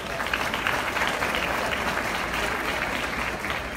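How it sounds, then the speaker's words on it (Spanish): A youth-awards ceremony audience in Puerto Rico gives sustained, fairly distant applause, an even wash of many hands clapping for several seconds with no speech over it. "Vamos a recibir con un fuerte aplauso a Jordan Esponda"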